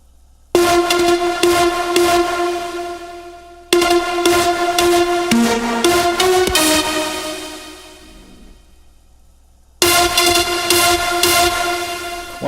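Dry synth lead track stripped of its plugin chain, loud sustained tonal notes in bursts with a steady harmonic stack, pausing briefly near four and ten seconds, with no voices.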